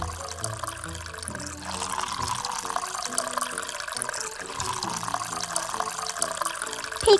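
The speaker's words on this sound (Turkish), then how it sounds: "Küveti dolduruyorum." Tap water runs steadily into a filling bathtub, a continuous close, moderately loud gushing with a faint musical background.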